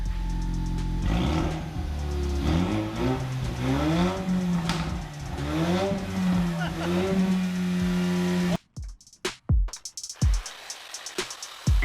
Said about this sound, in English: just because I know everybody wants to hear what it sounds like without a muffler